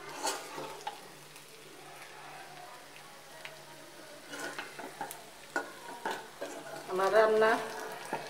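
Chinese-style fried rice with egg and Maggi powder being stir-fried, soft sizzling under intermittent clinks and scrapes of a spatula against the pan, busier toward the end with a brief voice-like tone.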